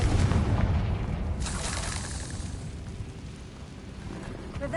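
A Confringo fire spell blast in Hogwarts Legacy: a loud booming explosion with a deep low rumble that sustains across the whole stretch, a bright burst partway through, and game ambience beneath.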